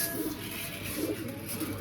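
Soft, low pigeon coos repeat a few times against a hushed outdoor background, with no one speaking.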